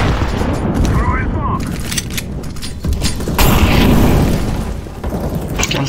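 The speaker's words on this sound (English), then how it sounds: "I'm throwing a grenade." Counter-Strike: Global Offensive gameplay, with a booming grenade explosion and bursts of gunfire over the sound of a match in progress. The blasts and shots are loud and close, with brief player voices mixed in.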